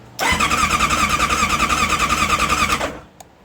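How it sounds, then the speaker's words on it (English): Engine cranking over during an IGN1A ignition swap, a loud close starter churn with a fast even pulsing rhythm for about two and a half seconds before it stops without firing. "So I'll crank the motor over."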